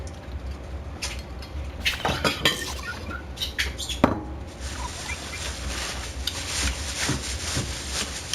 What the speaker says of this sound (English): what we're going to do is we're going to just cut this bok choy.